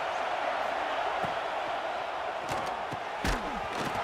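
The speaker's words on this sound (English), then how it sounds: "This crowd ready to make its presence known" Stadium crowd noise from a college football video game, Penn State versus Michigan, forms a steady, dense roar with a few sharp thuds of on-field hits breaking through.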